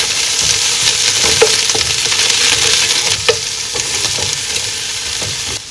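Chopped onion goes into a pan of browned garlic, setting off a loud, steady sizzle with occasional stirring clicks and scrapes throughout.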